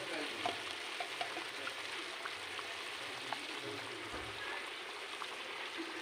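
Chicken roast sizzling and frying in a pan while being stirred, with chilli powder, salt and sugar mixed in; a steady, close, continuous crackle with faint scraping and no talk.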